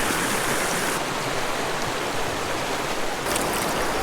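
The shallow Nayar river flows over mossy rocks in a low dry-season stream, making a dense, steady rushing noise up close, with no voices.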